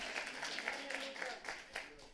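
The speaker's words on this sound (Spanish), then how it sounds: "Fuertes aplausos al Rey de Gloria." A church congregation applauding in praise during a Sunday morning service, a steady wash of clapping from many hands, moderately faint and continuous with a few sharper bursts.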